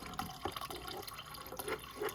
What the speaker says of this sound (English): the water kind of skips the stream